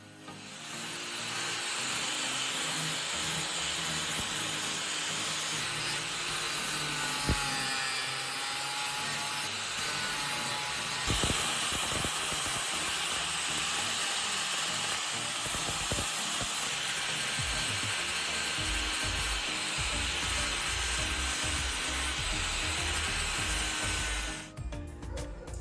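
Sustained abrasive grinding on a homemade socket tool built from old bearings, smoothing rough spots and uneven welds; a steady, loud, close rasping hiss runs nearly unbroken for the full length, then cuts off at the end.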